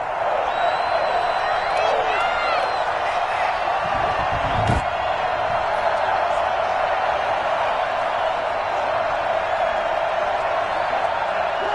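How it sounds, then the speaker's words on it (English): Stadium crowd noise rises in a PS5 American football video game before a big third down, a steady dense roar with cheering swells and a sharp thud midway, continuous and fairly loud throughout. "The crowd getting into it as we come up on a big third down."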